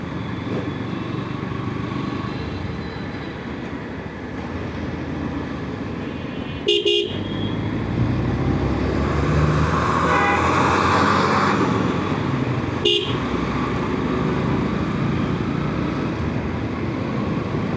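Busy Dhaka road traffic with cars and motorcycles passing, a continuous engine rumble broken by two sharp nearby horn honks and fainter toots in between.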